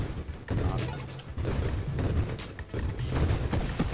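A grenade launcher in the space shooter Nova Drift fires many grenades at once, producing repeated low, booming volleys of blasts in quick bursts about a second apart, layered with rumbling explosions.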